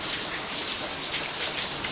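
Heavy rain pouring onto a house in Saudi Arabia, a loud dense hiss of water that continues evenly throughout the brief stretch.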